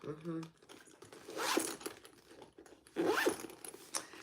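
Zipper pulled on the pocket of a fabric triple zipper bag, two separate rasping zips with handling rustle between them, close and moderately loud.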